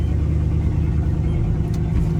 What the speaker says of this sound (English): this is the first drive in the 1986 Chevy K10 after fixing it